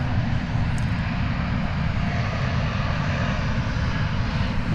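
A Boeing 787 Dreamliner touches down at DFW Airport, its engines a loud, broad, steady roar heard from a distance with no voices.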